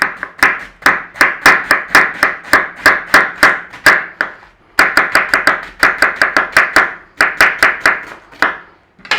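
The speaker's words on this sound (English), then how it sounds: "we want to slice the cabbage" A knife slices through cabbage on a cutting board in quick, rhythmic crisp chops, two long runs of close, loud strokes separated by a short pause.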